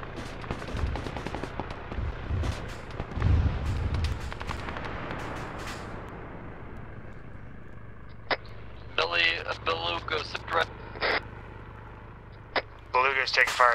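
Rapid bursts of incoming gunfire crackle through a military video game mission, dense early on and then thinning into isolated shots, while radio voices talk over the later part.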